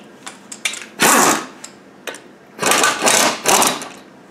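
Air wrench (air spanner) spinning off a ring of bolts on a gearbox casing during a strip-down, a handful of short bursts, some close and loud, separated by brief pauses with small clicks between them.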